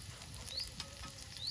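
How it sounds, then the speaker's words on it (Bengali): Green chillies and black cumin fry in a pan for a pumpkin leaf paste, giving a faint, steady sizzle and crackle throughout with no talking. "এবার সবগুলো একসঙ্গে আমি ভালো করে ভেজে নেব।"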